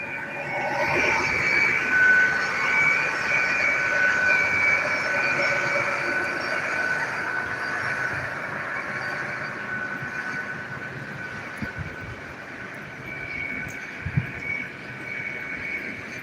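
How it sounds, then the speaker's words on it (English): A passenger train of nine coaches rolls past with a loud, continuous rumble and a steady high whine that fades slightly toward the end, with no voices. "that pantograph would come up, and then it'd be an electric train."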